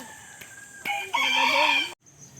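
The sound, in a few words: chickens clucking and crowing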